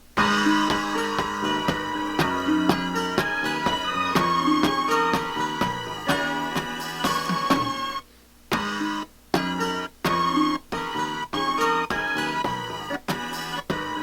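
Short sampled music fragments, chopped on an MPC2000XL and triggered from its pads one after another in a choppy rhythm, with abrupt cuts and brief gaps between hits.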